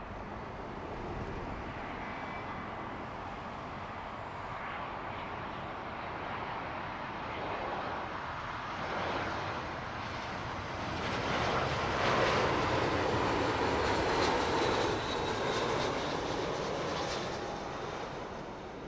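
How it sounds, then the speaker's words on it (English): A British Airways A320 shuttle lands at Heathrow, its engines a steady, fairly distant roar that swells slightly toward the middle before easing off. "Bit of a floaty arrival for the British Airways shuttle"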